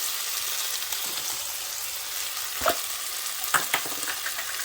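Seasonings with pimento and cloves fry in a pot for Jamaican-style stew fish, giving a steady close hiss of sizzling oil, with a few brief clinks and stirring knocks near the end and no talking.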